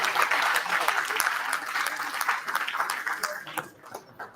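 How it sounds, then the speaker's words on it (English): Conference audience applauding to welcome a professor on stage, a dense wash of many hands clapping that carries on steadily and tapers toward the end. "can we welcome Professor Dr. Dharmendra Kumar with a thundering applause"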